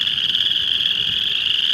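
A dense chorus of small frogs calling in spring, loud and close, with a continuous high-pitched trill droning steadily throughout and no voices over it.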